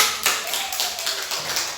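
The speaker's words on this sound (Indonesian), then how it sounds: "tepuk tangan untuk kelompok 3 ya" Brief applause for a student group in a classroom, with a burst of claps near the start and a softer patter of clapping that continues to the end.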